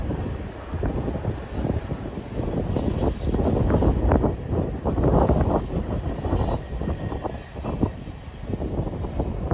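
Union Pacific's Big Boy 4014, a huge World War II-era steam locomotive weighing over a million pounds, chuffs and rumbles past in a steady, loud roar of rail noise with bursts of exhaust, heard without talk.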